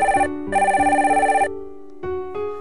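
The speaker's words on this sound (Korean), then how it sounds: "어! 전화 왔다." A telephone rings in repeated bursts of bright electronic tone, loud and close, with short pauses between the rings and no talking over it.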